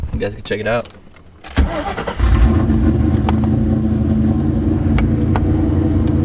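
A car with a 2-valve engine, tuned with a nitrous setup, cranks and fires up, then settles into a steady, loud idle around 1100–1300 RPM, with someone talking briefly over it before the start.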